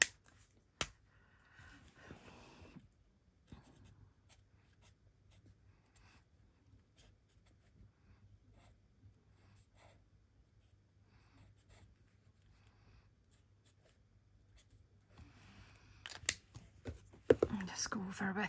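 A stamped Christmas card from the Rustic Crate set being coloured with Stampin' Blends alcohol markers in Old Olive: faint, soft scratchy strokes in a quiet room, with louder handling noises near the end.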